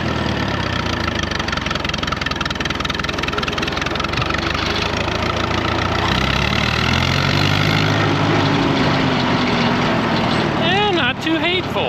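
An old tractor engine runs steadily and loudly while backing up in reverse, with a low mechanical drone and some clatter, as people talk briefly over it.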